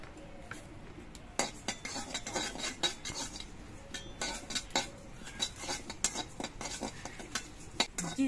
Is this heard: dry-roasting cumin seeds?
yes